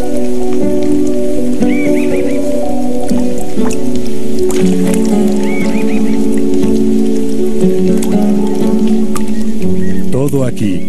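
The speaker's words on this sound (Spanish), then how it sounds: "Los colibríes usan la lluvia para bañarse." Rain drips and patters steadily through an Andean cloud forest, with scattered drops falling over a sustained droning tonal background.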